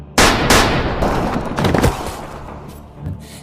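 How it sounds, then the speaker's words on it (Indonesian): A pistol shot fired in a film scene rings out as a loud sharp crack, followed by several more sharp bangs and impacts over about three seconds. "Tiba-tiba Lazarus mengeluarkan pistol dan menembak si Harlan."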